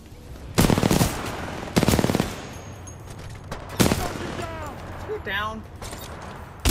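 Bursts of automatic gunfire from the Titanfall 2 video game, three loud volleys of rapid shots at a steady rhythm, with a voice shouting between them and radio-style chatter near the end.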